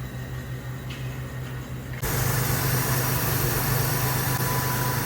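Engine of a 2018 Ford Transit 350 running steadily after a water pump replacement, a continuous low drone that jumps noticeably louder partway through and then holds an even, smooth idle.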